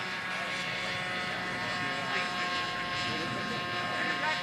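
A radio-controlled model airplane at the SAE Aero Design East competition drones steadily overhead, its engine a continuous even whine with a tonal hum lasting throughout, moderately loud against open outdoor background.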